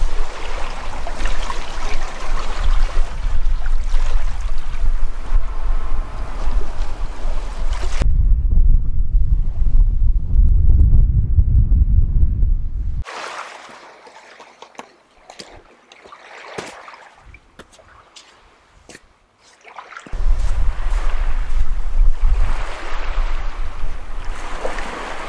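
Strong cold winter wind buffets the microphone outdoors in heavy rumbling gusts, with a quieter stretch of faint background noise in the middle before the wind returns.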